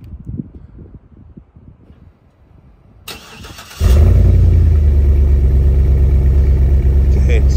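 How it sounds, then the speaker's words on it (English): A 2008 Hummer H2 SUT with dual custom exhaust cranks after a few quiet seconds with a short brief word spoken, then fires into a loud, deep, steady idle rumble close by. "I'm gonna stand back here and I'm gonna start it"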